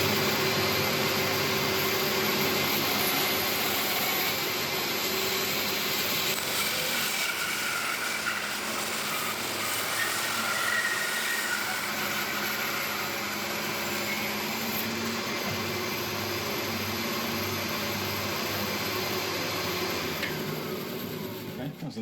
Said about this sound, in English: get this across the bandsaw and cut off this whole side